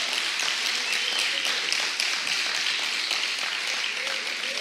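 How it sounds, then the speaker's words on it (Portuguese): Sustained applause from a church congregation during a worship sermon, a steady dense patter of many hands filling the room at moderate level, with faint voices underneath. "Aplauda com mais energia aí."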